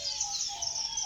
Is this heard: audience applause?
no